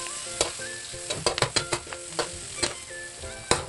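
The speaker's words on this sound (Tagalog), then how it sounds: "Yan, simula ko na sa pagigisa. Mainit yung kawali." Garlic and onion sauté in a hot pan for a Filipino sweet sarsyado dish, giving a steady crackling sizzle broken by sharp utensil scrapes and taps at irregular intervals, close and clear with no talking.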